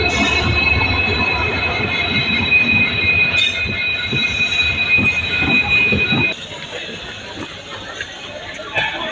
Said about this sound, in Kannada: ಇನ್ನೊಂದು 10 ನಿಮಿಷದಲ್ಲಿ ಟ್ರೈನ್ ಬರುತ್ತೆ.